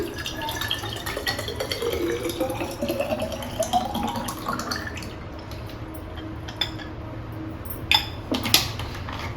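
Water is poured into a bottle with a trickling, gurgling fill whose pitch rises as it fills, followed by a few faint drips and clinks against quiet room background.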